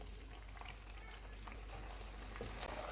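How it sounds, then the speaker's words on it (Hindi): Tomato puree and spices fry in a pan for a curry with chicken marinade, a faint, steady sizzle with soft bubbling and occasional small stirring sounds. "इनको 2 से 3 मिनट तक भूनेंगे।"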